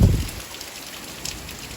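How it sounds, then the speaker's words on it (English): Heavy rain pours steadily outdoors during a storm with tornado sirens in the area, a dense continuous hiss with a brief louder rumble at the very start. "Just heavy rain right now."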